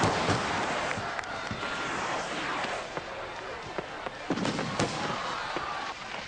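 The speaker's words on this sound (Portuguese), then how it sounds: "o ponto alto das festividades do dia era uma exibição de ativos fogos de artifício" Fireworks display with scattered sharp bangs and crackling bursts over a dense, continuous roar of crowd noise, pops landing irregularly at varying distances.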